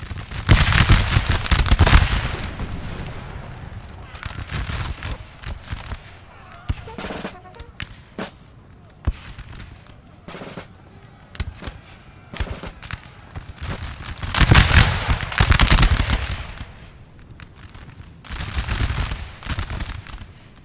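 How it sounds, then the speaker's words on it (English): Musket volleys from a Napoleonic line battle in the Napoleon Total War video game: loud crackling bursts of massed gunfire with thumping reports, which swell and fade in several waves against a rumbling battlefield background. "See a few glorious line shots go off."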